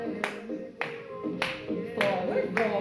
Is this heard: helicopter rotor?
no